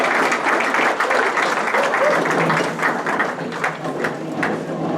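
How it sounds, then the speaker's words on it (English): Audience applause fills a graduation brunch, a steady dense wash of clapping from a seated crowd lasting throughout, with faint voices mixed underneath. "you better give them a round of applause"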